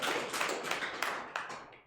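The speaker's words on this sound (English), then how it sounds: "let's have this applause to like congratulate ourselves for being here" A small audience at an artificial intelligence meetup claps together. Dense, close clapping with a few sharper individual claps fades out over about two seconds.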